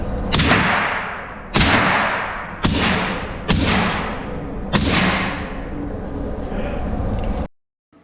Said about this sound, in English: First 2 rounds are supersonic, next 3 rounds are subsonic.